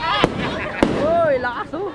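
Two sharp firework bangs go off about half a second apart, with loud crackling and people talking and exclaiming around them.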